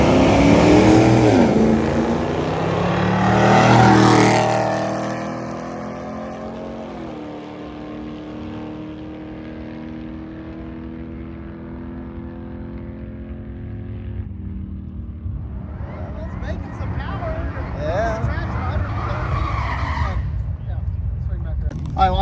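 A Studebaker drag racing car at a drag and drive event launches down the strip with a loud engine roar that rises and then fades into a steady drone, and a crowd and other noise build toward the end.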